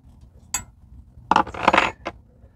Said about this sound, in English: the bolt's coming undone. And I can unscrew it with my hand